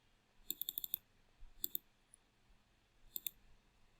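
Computer mouse clicked in quick clusters, a rapid run of light clicks followed by two shorter pairs, close and crisp against a faint quiet background.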